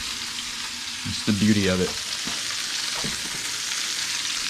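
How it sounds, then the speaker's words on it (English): Meat sears and sizzles in a hot pan, a steady bright hiss with a few stirring scrapes, heard up close while someone speaks briefly over it. "So let's see if we should be still getting a sear."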